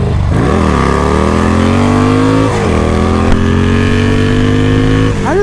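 A motorcycle revs hard and accelerates up through the gears close by while riding in pouring rain, its engine pitch climbing, dropping at each shift, then climbing again, loud and continuous.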